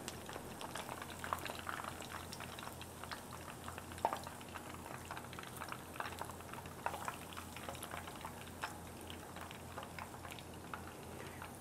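Battered chicken sits in a frying pan of oil, a soft, steady bubbling sizzle with scattered small pops, fairly faint and continuous with no voices.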